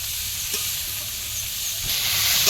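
Mixed vegetables frying in hot oil seasoned with panch phoron, a loud steady sizzle and hiss close up that swells slightly toward the end, with no talking.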